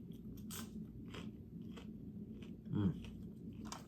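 Crunchy Arby's fast food being bitten and chewed up close, with a sharp crunch near the end over quiet room noise and brief mouth sounds.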